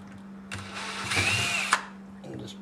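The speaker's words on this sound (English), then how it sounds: "We're actually going to pre-drill us some holes in this pipe." A power drill pre-drills holes in a pipe for screws, whining in one steady burst of about a second with a short rising pitch and a sharp click at the end, over a constant low electrical hum.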